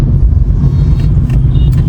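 A petrol car with a TSI engine driving, heard from inside as a steady, loud low rumble of engine and road noise throughout, with no talking.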